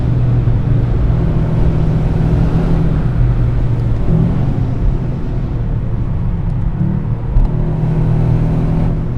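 A 2025 Toyota GR Yaris with automatic transmission and four-wheel drive lapping the Nürburgring Nordschleife, its engine a loud, steady rumbling drone from inside the car that barely changes pitch throughout.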